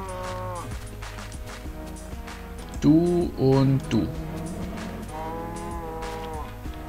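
Cows in the video game Minecraft moo in a few short, loud, close calls, two quick ones in the middle and another near the end, while someone talks in between.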